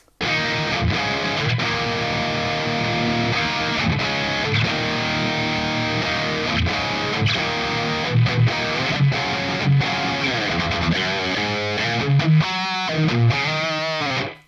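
Heavily distorted electric guitar played through an amp-simulation plugin with its enhance feature engaged: sustained, saturated chords ring continuously, with busier note changes near the end and no talking.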